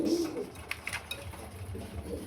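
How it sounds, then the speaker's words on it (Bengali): A pigeon at a breeder's farm gives a short, close coo at the start, followed by soft clicks, shuffling and a low murmur of birds in the background. "দেখার মতো একটা কবুতর ভাই"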